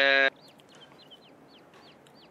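Chickens cluck in Farming Simulator 22, with a brief loud tone at the start and then several short, chirpy clucks scattered at moderate volume.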